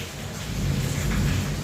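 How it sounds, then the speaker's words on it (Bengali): Heavy rain pours outside a house with low rumbling thunder, a dense continuous roar that swells slightly toward the end. "বাহিরে কত বৃষ্টি হচ্ছে"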